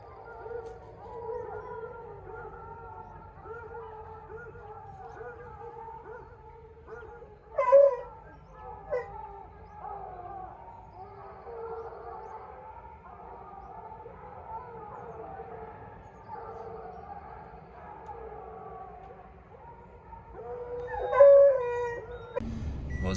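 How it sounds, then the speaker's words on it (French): Hunting dogs baying on a wild boar trail in the Corrèze countryside, distant overlapping howls and yelps carrying on continuously, with a few louder closer bursts, faint and far off. "Bon, c'est debout, les chiens ils mènent"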